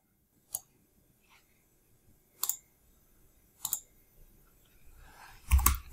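Computer mouse clicks while installing a Photoshop plugin: four or five sharp, close clicks spaced a second or two apart, the last a quick double click, over a quiet room with no speech.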